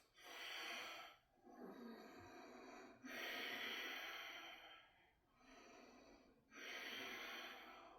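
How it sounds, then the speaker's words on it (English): Deliberately exaggerated yoga breathing during a standing core sequence: three long, loud, hissing breaths, each lasting a couple of seconds with short pauses between, close and breathy with a slight nasal snort. "I'm exaggerating my breath to keep you on track"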